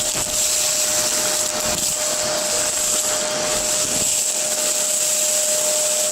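A vacuum cleaner runs steadily with a constant whine and broad airy roar, held one-handed while cleaning, loud and continuous from start to finish with no talk.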